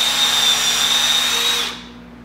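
Drill boring a hole through a wooden stretcher set in a stretcher drilling guide, a loud steady close whine that runs unbroken and then winds down sharply near the end.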